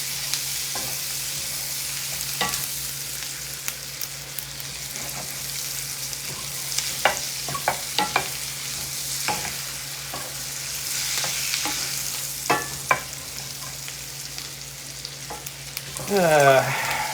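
Butter sizzles and fries steadily in a cast iron pan for biscuits and gravy, with occasional scraping clicks and utensil taps over the hiss and a brief louder stir near the end.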